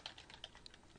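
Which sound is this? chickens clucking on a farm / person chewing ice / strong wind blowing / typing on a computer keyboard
typing on a computer keyboard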